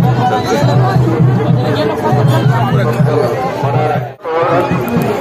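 Dense crowd chatter fills a riverside Chhath Puja ghat in West Bengal after sunrise, many overlapping voices at close range with a steady low hum underneath, dipping briefly near the end.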